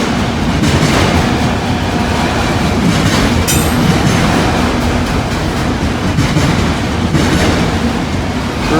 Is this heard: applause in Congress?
no